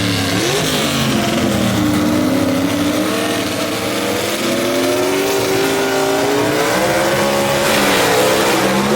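A gasser drag race car, Matt Hill's Rowdy Reputation, launches hard and accelerates down the Shadyside Dragway track, its engine roaring loud and continuous with a rising, wavering pitch and no talk over it.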